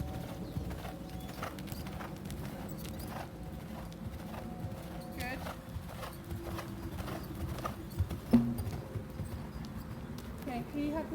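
Horse hooves strike the ground in a steady cantering rhythm over poles on a riding ground. A person talks over them throughout.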